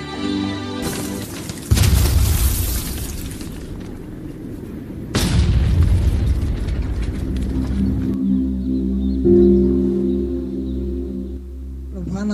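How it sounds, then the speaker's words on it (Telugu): Staged bomb blasts in a children's Sunday school Christmas skit at a church: two heavy booming bursts a few seconds apart, each followed by a rumbling tail, with lower background sound between them. "బాంబులు పేల్చేద్దాం"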